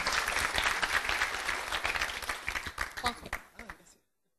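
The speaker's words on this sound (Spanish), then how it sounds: "Un aplauso para Juan José" An audience at a seminar applauds a speaker, dense clapping that thins out and fades to silence, with voices talking over the final moments.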